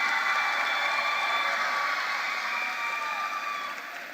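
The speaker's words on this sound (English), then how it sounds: "Can we give all those students one last round of applause," Graduation audience at a high school ceremony applauding the graduating students, a dense steady wash of clapping and crowd noise that holds at full level and starts to fade near the end.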